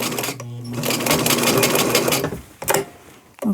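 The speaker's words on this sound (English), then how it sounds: "my squeaky, squeaky sewing machine makes me feel like I need to oil it" A squeaky home sewing machine stitching fabric for an upcycled braided beach dress runs in a steady close, loud whir, then stops briefly and restarts with short bursts toward the end.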